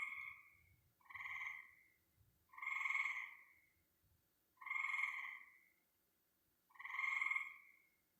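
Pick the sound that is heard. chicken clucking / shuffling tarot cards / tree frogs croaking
tree frogs croaking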